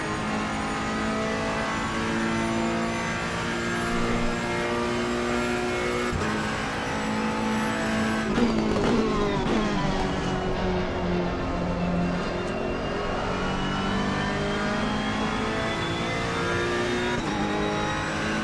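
Race car engine in the Assetto Corsa Competizione video game at Monza, a loud, continuous close engine roar rising and falling through gear shifts and revs.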